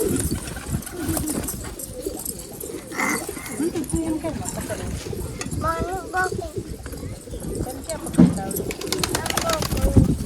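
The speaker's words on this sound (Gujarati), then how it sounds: "ઓલું કબૂતરનું બચ્ચું છે જોયું" Pigeons coo among a large flock, including a pigeon chick, the soft calls scattered through loud nearby talk and shuffling clatter.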